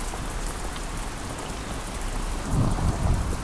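Heavy rain pours down in a dense, constant roar during a cold-wave downpour in Japan, with a low rumble swelling near the end.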